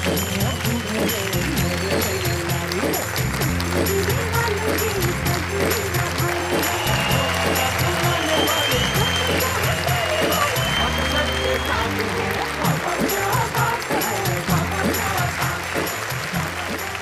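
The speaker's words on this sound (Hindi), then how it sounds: "जोरदार तालियां संगीता सरल।" Sustained applause and clapping from a live audience honouring poet Sangeeta Saral at a Hindi hasya kavi sammelan, steady and dense across the whole stretch with crowd murmur mixed in.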